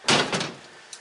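A door on a rusty 1985 GMC Jimmy swings with a single close, loud clunk, followed by a short fading rattle and a faint tap at the end.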